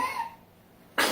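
A sudden sharp sneeze bursts in at the end after a stretch of near quiet, loud and close.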